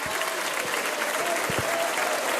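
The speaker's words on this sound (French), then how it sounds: "Je vais vous demander aussi d'applaudir tous les techniciens." A French TV talent-show studio audience applauds the technicians in dense, sustained clapping that fills the room and stays steady and loud from start to finish.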